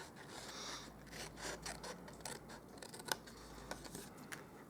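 Scissors trimming the flap of a cardstock box, a close, quiet series of crisp snipping cuts with rubbing paper rustle between them.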